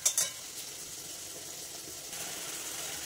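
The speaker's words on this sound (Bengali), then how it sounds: "এবারে আর একটু কষিয়ে নিই, তারপরে জল দেবো" A tomato and spice paste sautés in a pan with a soft, low sizzle and a couple of brief clinks at the start, fairly quiet throughout.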